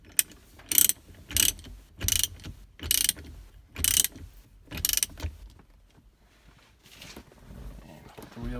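A hand ratchet tightens the steering wheel nut on a 1998 Porsche Boxster 986 in a series of about six crisp, close clicking bursts at an even pace, with faint mechanical handling afterward.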